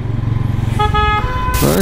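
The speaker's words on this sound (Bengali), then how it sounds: "হর্নটা হলো আমার পাশের এই যে স্প্লেন্ডার" A Hero Splendor Plus motorcycle horn sounds in a short, loud, steady tone after a rumbling engine idle, then cuts off abruptly into a louder burst of noise.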